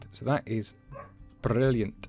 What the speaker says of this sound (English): if you can hear a barking dog background